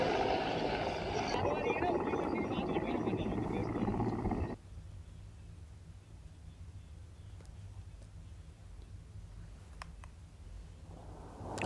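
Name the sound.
Indian Air Force helicopter fighting hill fire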